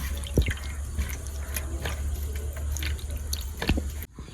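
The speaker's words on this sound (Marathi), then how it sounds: "ते मांदेली मस्त वगैरे धुवून घेतल्यात" Mandeli fish being rinsed in water, with close, irregular drips and splashes and wet handling noises continuing steadily before briefly cutting off near the end.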